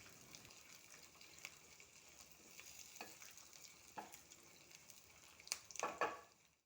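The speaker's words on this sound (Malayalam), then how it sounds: "നല്ലപോലെ കളർ മാറുന്നത് വരെ വഴറ്റിയെടുക്കാം." Cashew nuts and pepper sautéing in a pan for ven pongal, a quiet steady sizzle with spatula scrapes and stirring, growing busier and louder toward the end, no talking.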